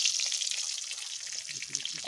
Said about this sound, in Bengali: মাছ ভাজা দেখো কত সুন্দর মাছ ভাজা